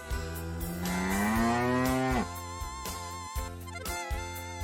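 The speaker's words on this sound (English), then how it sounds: "Cow." A cow gives one long, rising moo lasting about two seconds, followed by a plodding musical backing.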